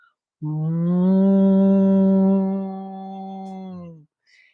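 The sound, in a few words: humming imitation of a cow mooing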